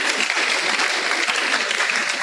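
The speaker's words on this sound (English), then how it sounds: "A round of applause." Indoor university audience applauding a guest speaker, a dense, steady burst of clapping with no voices over it.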